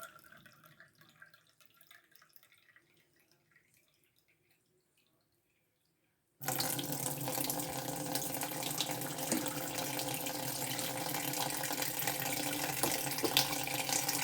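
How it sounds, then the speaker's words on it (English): Cold tap water gushes steadily into a bowl in a kitchen after a quiet start with faint background noise, a loud continuous splashing stream that goes on to the end. "Then add another cup of cold water."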